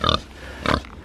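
A pig near a meadow by an ancient wood gives two short, close grunts about half a second apart, with quiet outdoor background between them.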